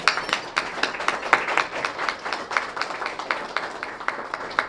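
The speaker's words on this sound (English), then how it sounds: "So let's give them a great round of applause." An audience at a Student of the Month event applauds, a dense, steady patter of many hands clapping at moderate loudness, sustained for a few seconds with no speech.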